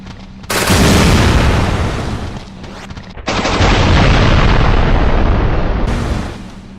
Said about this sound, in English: So it fires 3 particles at a time when fully charged, it seems